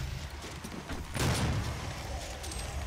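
In DOOM, a loud burst of gunfire erupts midway over a steady rumbling game backdrop, then fades back into the din.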